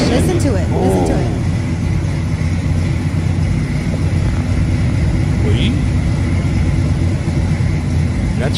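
A classic Chevrolet Chevelle Super Sport engine rumbles steadily in an outdoor setting while it is loaded up, a loud continuous low drone with faint background noise and no clear speech.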